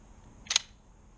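The bolt of an ICS airsoft M1 Garand is pulled back, giving one quick, crisp metallic double click, close and isolated against a quiet background.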